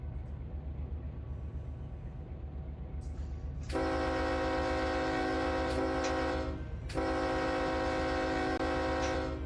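A freight locomotive in the Run8 train simulator hauling empty grain cars sounds a loud, sustained air horn in two long blasts over a steady rumbling engine drone.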